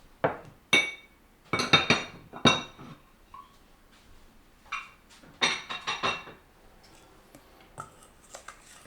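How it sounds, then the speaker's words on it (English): A metal cooling rack is pulled out in a home kitchen, sharp clinks and rattles of wire against pans and dishes, in irregular close bursts with quieter gaps between them. "I want to get the cooling rack out because the cake is almost ready."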